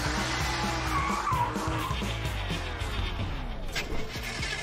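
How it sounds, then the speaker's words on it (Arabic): A fast toy race car speeds along and skids, giving a continuous loud whirring engine tone with squealing, sliding tire sounds throughout, close and unbroken. "انظري إلى هذه السيارة السريعة."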